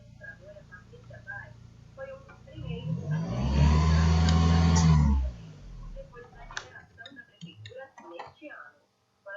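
A car running on CNG (natural gas) idles, revs up to a loud steady drone, then abruptly dies at idle. Quiet ticking and faint voices are heard before and after the engine cuts out.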